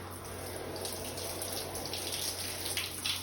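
Water soaks through fabric that is being wetted before ironing, a steady, even wash of running water that continues without a break.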